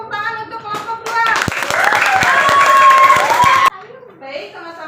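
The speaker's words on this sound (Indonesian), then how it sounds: "Tepuk tangan untuk kelompok 2." Classroom applause from a group of students during a school lesson, a burst of scattered hand claps lasting a few seconds amid children's voices and chatter, then stopping abruptly as talk continues.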